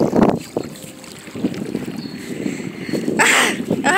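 A motorboat crosses Lake Nicaragua with a steady engine rumble beneath wind buffeting the microphone and splashing water, loud and close, with a burst of spray near the end.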